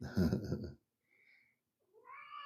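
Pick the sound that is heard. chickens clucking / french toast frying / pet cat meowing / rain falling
pet cat meowing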